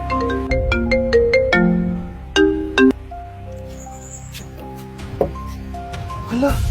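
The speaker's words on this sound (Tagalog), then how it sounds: "Hala, cellphone ko." A cellphone ringtone plays a bright, bouncy electronic melody of quick repeated notes for several seconds, with faint background noise and brief clicks around it.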